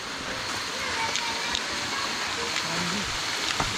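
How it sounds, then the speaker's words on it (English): Rain falls through the trees of Colo-i-Suva Forest Reserve in Fiji, a steady, close hiss of drops pattering on leaves, with faint speech now and then beneath it. "So there you have it, it is raining."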